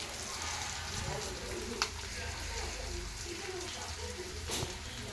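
Onions fry in a pan for egg curry with a continuous, fairly quiet broadband sizzle and a couple of faint clicks, while a voice talks underneath.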